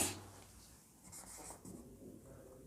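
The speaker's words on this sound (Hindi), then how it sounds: "चलिए मैं एक क्वेश्चन लिखता हूँ।" A question is written out by hand for an accounting lesson: quiet, close scratchy strokes with short rubbing pauses over a few seconds, with no talk.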